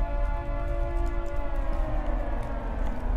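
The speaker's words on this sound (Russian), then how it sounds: "И там еще, кстати, орёт сирена." A steady electronic siren drones with layered sustained tones over a low rumbling background, continuous and fairly loud throughout, in the horror video game The Cursed Tape.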